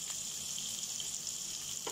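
Onions deep frying in oil, a soft, even, hissing sizzle that holds steady throughout, faint and without voices.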